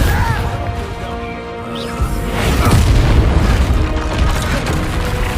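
A Bombarda spell explosion from Hogwarts Legacy, a continuous loud booming roar with crashing debris rumbling throughout.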